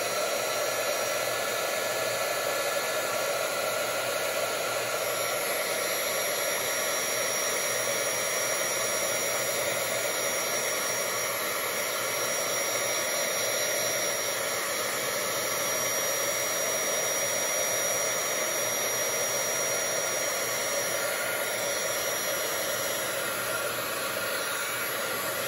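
Heat gun blowing hot air to melt embossing powder on cardstock, a steady loud whooshing hiss that runs unbroken throughout, no talking.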